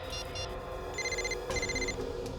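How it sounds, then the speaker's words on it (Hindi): A mobile phone ringing inside a drawer, its repeating electronic ringtone chiming in short bursts over a dense background of dramatic music. "फोन कहां बज रहा है?"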